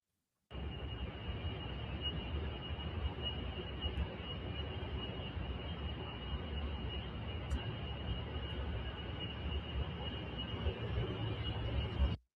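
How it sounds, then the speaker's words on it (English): A data center heard from a nearby home gives off a constant droning roar like a distant jet engine, with a steady high whine layered on top, unbroken and fairly faint for about twelve seconds. "This is what it's like living next to a data center."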